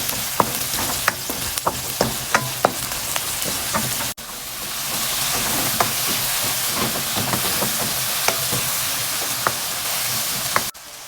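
Garlic and onion sauté in a pan, with a continuous loud sizzle and hiss, punctuated by regular clicks and taps of stirring and a brief drop in frying noise partway through.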